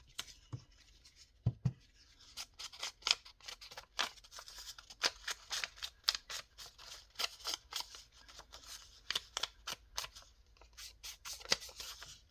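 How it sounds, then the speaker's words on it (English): Paper being torn by hand for folio-style ephemera: a long run of sharp crisp rips and tears, close up, with no talking. "this paper rips beautifully"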